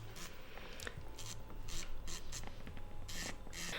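Quiet, intermittent bursts of gritty sanding as an electric nail file at low speed works a nail, short rasping strokes repeating irregularly up close, with no talking.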